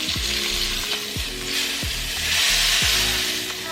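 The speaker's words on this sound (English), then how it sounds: "Then sear the other side." Steak searing in a pan with butter and garlic gives a loud, steady sizzle, close up, with a few knocks of the pan or utensil at regular intervals and no voices.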